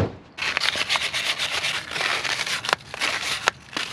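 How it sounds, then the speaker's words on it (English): Steady scratchy rubbing of sandpaper against a car wheel, close up, in continuous back-and-forth strokes with a few sharper scrapes. "The reason why I'm sanding is because I was reading that it was a good way"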